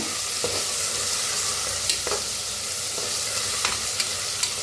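Soya pulao masala roasting in ghee in a pan gives a steady, close sizzle with occasional stirring scrapes and clicks throughout, no voices.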